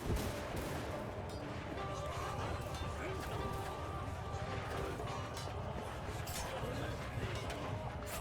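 A European gunner unit fires in the video game Shokuho. Their shots blend into a dense, distant battle din of overlapping gunfire and clashing that runs steadily throughout.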